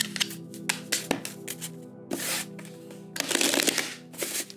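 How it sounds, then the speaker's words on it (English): Tarot cards being shuffled by hand in several quick riffling bursts with brief pauses between, close and crisp, no talking. "I'm going to do 3 shuffles and get into the energies for the weekend"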